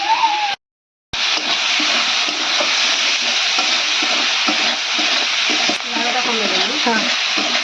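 Spices such as red chili powder being fried and stirred in a pan while cooking cauliflower chili, a steady close sizzle with scraping stirs throughout, broken by a brief silent gap near the start.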